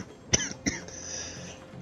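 A man coughs in two sharp bursts close to the microphone, followed by a brief throat-clearing rasp and a faint trailing tone, after water went down the wrong pipe.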